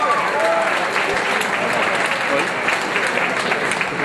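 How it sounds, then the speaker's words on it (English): A fight-night crowd at an IFC bout in a Miami airport hotel applauds steadily and fairly loudly for both fighters. The clapping runs as a continuous dense wash, with faint voices mixed into the crowd noise. "Let's have a nice round of applause for both fighters,"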